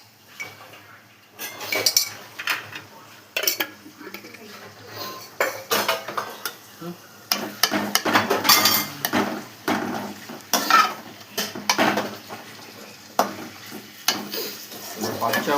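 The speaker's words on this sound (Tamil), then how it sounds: "இஞ்சி பூண்டு பச்சை வாடை போனவரையும் வணக்கலாம்" A spatula scrapes and clinks against a pan as onions and ginger garlic paste sauté, with a light sizzle under repeated irregular stirring knocks, fairly close and moderately loud.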